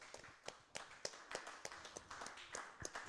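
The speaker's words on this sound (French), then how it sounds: "Acclame pour Jésus de Nazareth." A church congregation claps for Jesus in a steady, rhythmic beat, each clap sharp and evenly spaced, heard from a little distance and fairly quiet.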